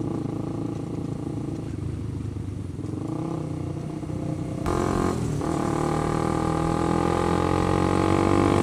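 A Honda CBR 150R K45 with an overbored DOHC engine revs hard, its tone climbing, then stepping up suddenly into a louder, higher drone that holds to the end. No one speaks.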